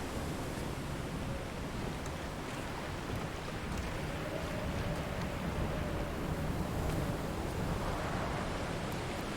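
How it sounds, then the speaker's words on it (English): Wind sweeps across the island setting of the video game Dear Esther, a steady, full, hissing rush at moderate level with no talking. "It's just a bunch of wind noises right now"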